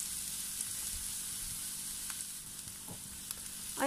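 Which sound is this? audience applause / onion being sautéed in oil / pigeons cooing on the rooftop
onion being sautéed in oil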